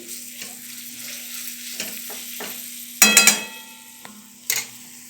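Tomato masala sautés in oil until the oil separates, giving a low, steady sizzle with occasional scrapes. A louder burst of stirring and clattering comes midway and again near the end, with no talking.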